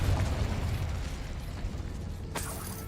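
A Confringo spell in the game Hogwarts Legacy goes off as a broad rumbling explosion with a heavy low-end boom, ending in a sharp crack near the end.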